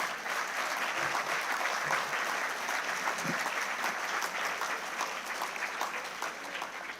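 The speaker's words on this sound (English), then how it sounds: "They all deserve big round of applause." An audience at a university graduation ceremony applauds medal winners and rank holders with sustained, even clapping from many hands, moderately loud and continuous throughout.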